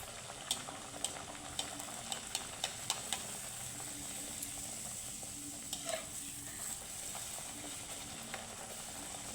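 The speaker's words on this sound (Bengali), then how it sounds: "এখন আমি আরেকটা দিয়ে দেবো একে একে এইভাবে সবগুলো ভেজে নেব" Palm fruit fritters frying in hot oil, a steady soft sizzle with occasional sharp crackles and pops scattered throughout, fairly quiet and close with no talking.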